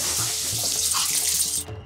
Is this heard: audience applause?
no